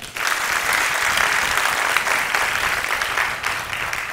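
A room full of people claps steadily, a dense, sustained round of applause lasting several seconds without voices.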